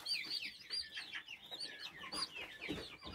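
Italian Leghorn and Chabo chicks peep with high, repeated chirps while a hen clucks softly among them, a busy close-up cluster of calls with no talk.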